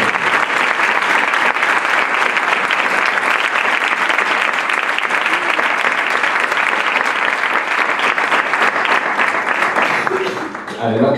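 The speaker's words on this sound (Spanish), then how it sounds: "Les pido un aplauso que se salga a la sala." A dense, loud round of audience applause for the volunteer team at an international coaching conference, sustained evenly for about ten seconds before thinning out at the end.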